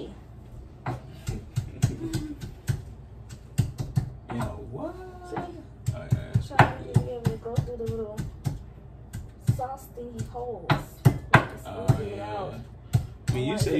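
Irregular sharp knocks of a knife chopping on a board, repeated many times while people talk in the background.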